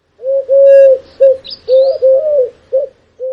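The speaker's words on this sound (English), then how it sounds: "Doves, symbolizing peace and tranquility, are gentle birds with soft cooing calls." A dove coos alone in soft, low, rounded notes, a few long and a few short, in an uneven rhythm. A faint higher chirp from another bird breaks in briefly.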